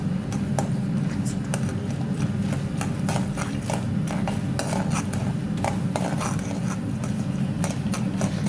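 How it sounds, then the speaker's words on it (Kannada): Mustard seeds crackle and pop in hot oil in a pan while cooking raw mango palya, a steady scatter of small sharp spits over a low sizzling hiss, close and fairly loud with no talking. "ಸಾಸಿವೆ ಕಾಳು ಚಟಪಟ ಆಗೋ ತನಕ ವೇಟ್ ಮಾಡಿ"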